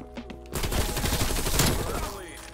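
XM4 rifle fire in Call of Duty: Black Ops Cold War, a dense rapid automatic burst lasting about two seconds, loud and close, with game sounds and a voice around it.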